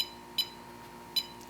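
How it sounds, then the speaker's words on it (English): Two short, high electronic beeps about three-quarters of a second apart from a Radiolink T8FB transmitter confirming its Bluetooth connection, fairly quiet and close over a faint steady hum. "the Radiolink is beeping me. It wants to confirm the connection."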